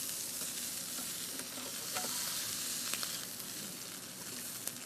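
Asparagus fries in a hot pan with a steady, close sizzle and crackle, broken by a few brief stirring or turning clicks, with no one talking.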